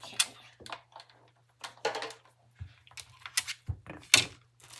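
A paper strip runs through a large die cutting and embossing machine for a scalloped card, giving scattered close mechanical thunks and clacks separated by short quiet gaps.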